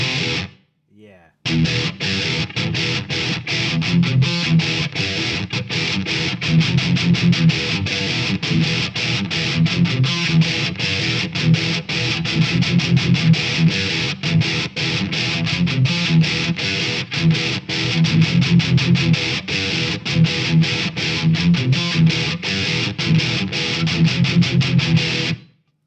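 Distorted electric guitar played through a Mesa Boogie Studio Preamp with added room reverb chugs out a loud, continuous heavy riff for over twenty seconds after a brief pause at the start.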